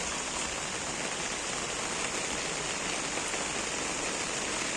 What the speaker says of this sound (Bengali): খুব বেশি বৃষ্টি হচ্ছে।